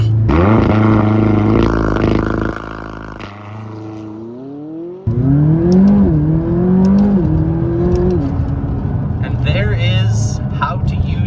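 A McLaren sports car engine held at about 3,000 rpm in launch control roars loudly, drops briefly, then surges back and climbs through rising revs as the car launches, with a voice talking over part of it.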